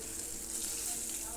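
Rohu fish pieces and a fish head frying in hot oil, giving a steady, dense crackling sizzle that stays close and even throughout, with no voices.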